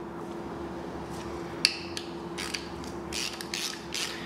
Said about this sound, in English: we can go ahead and snug those up with our ratchet and go in a cross pattern